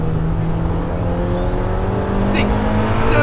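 A turbocharged B18C engine in a 400 hp Honda Civic Si EM1 revs hard toward its 9,000 RPM redline, a steady climbing drone heard from inside the car, with faint tire or whistle sounds near the end.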